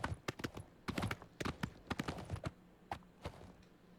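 Horse hooves clip-clop in the video game Oblivion, sharp uneven strikes in quick clustered bursts, fairly close and crisp, with a faint snort or whinny near the end.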